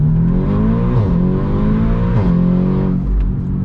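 An Audi S3 8V accelerates hard from inside the cabin, the engine note climbing loudly through rising revs with two quick gear changes marked by brief drops in pitch.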